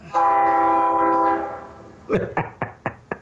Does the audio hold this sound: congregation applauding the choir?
no